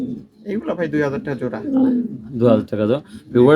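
Pigeons for sale, including Spanish and black pigeons, coo in soft, repeated throaty calls up close, mixed with someone speaking over them.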